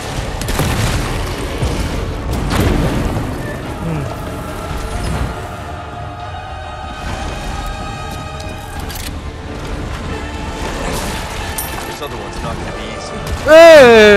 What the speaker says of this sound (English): kita pakai shotgun aja